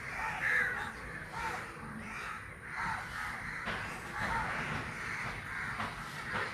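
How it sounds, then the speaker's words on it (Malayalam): A large gathering of crows caws in the evening around five o'clock, with many overlapping harsh calls forming a steady, dense chorus at moderate distance, with no talk. "ഒരു അഞ്ച് മണിക്കായ പിന്നെ ഒന്നും പറയണ്ട അമ്മാ കാക്കകളുടെ കേന്ദ്രത്തിൽ പെട്ടുപോയി ഞാനും ചേട്ടയും റോസും"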